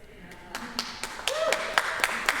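A Unitarian Universalist congregation starts applauding during a sermon: scattered individual handclaps pick up and grow denser, with a voice speaking faintly underneath.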